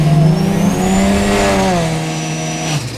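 A drag racing car with a fully built C4 three-speed automatic transmission holds a loud, close engine drone that climbs and then eases back down over several seconds, heard alone without talk.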